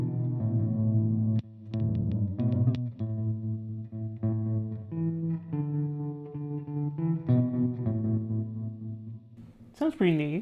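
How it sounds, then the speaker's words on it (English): Electric guitar played through a high-powered, compact reverb pedal: sustained chords and single notes ring out with a thick wash of effect, and a brief squealing swell comes at the end. "So this is a very, very high-powered reverb for the size."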